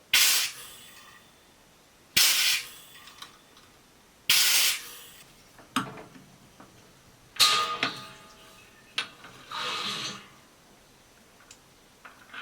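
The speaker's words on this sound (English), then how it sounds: "The CO2's on, so let's purge." CO2 gas purging hops inside a hop drop kit on a homebrew fermenter, heard as about six sharp hissing bursts, each starting abruptly and fading over a second or so, separated by quiet pauses with faint ticks and clicks.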